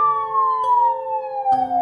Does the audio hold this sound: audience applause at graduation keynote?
no